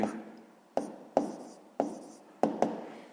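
Pen strokes on paper while working a sixth-grade math exercise, six crisp scratching bursts at a steady pace, close and fairly loud, with no talking.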